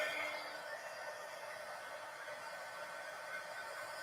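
A hair dryer blows on damp book pages, a steady airy whoosh running alone at moderate level for a few seconds.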